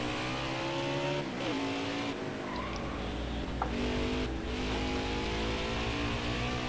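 A race car engine screams in a racing video game set at Road America, holding a steady high-pitched whine with shifts and brief dips as it accelerates and revs, with no talking.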